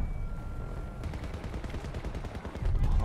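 Magnum handgun fire in the Battlefield 2042 beta shooter, loud sharp shots crackling in rapid succession amid dense battle noise, with another burst near the end.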